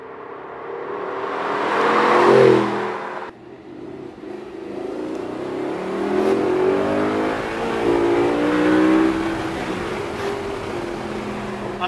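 A 2008 Audi R8 sports car accelerates on a test drive, its engine rising to a loud roar, dropping off sharply, then climbing again in a long sustained pull heard from inside the car.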